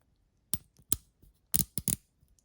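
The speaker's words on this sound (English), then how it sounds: "I'm going to show you just to open the bezel so that you can also hear the bezel movement." The rotating bezel of a Yema Superman watch, a 60-click French Air Force limited edition, ticking in a few sharp, crisp clicks spaced irregularly against near silence.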